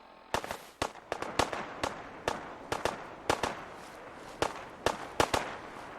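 Enemy gunfire in a video game: a dozen or so sharp, cracking shots in irregular bursts, some doubled in quick succession, fairly loud against a quiet background.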